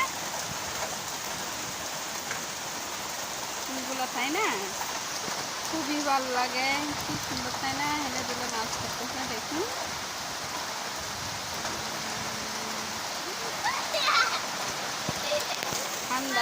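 Rain falls during a thunderstorm with lightning as a boy dances in it, giving a steady, even hiss throughout while someone talks over it and a voice is faintly mixed in.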